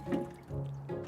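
Water poured onto a rose bush topped with compost, a few soft gurgling, splashing bursts close by, with brief pauses between them.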